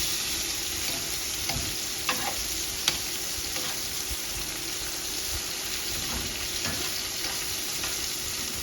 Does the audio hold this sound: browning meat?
yes